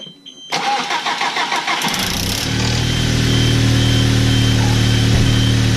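An Audi engine starts up after a timing chain replacement: a few seconds of starter cranking give way to a catch and a loud, steady idle that holds close by, with a faint beeping underneath.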